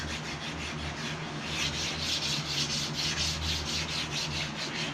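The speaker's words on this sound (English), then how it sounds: "just from my initial sanding here" Steady rasping of sandpaper scrubbed by hand back and forth over wood on an aircraft kit, close up and continuous, with a faint rhythmic pulse from the strokes.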